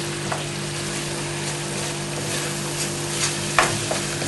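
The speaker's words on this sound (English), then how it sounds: "Keep that stirring through." A pigeon dish seasoned with salt and pepper sizzles steadily in a hot pan while a utensil stirs it, giving an even frying hiss with a few scraping clicks near the end.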